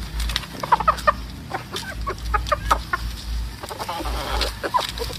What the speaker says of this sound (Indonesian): Yang ini ada ayam berkokok